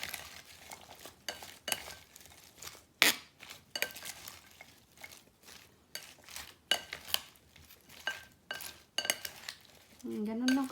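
A strawberry, banana and lettuce salad being tossed in a bowl gives irregular clinks, scrapes and soft rustling strokes, close and quiet, with a short voice near the end.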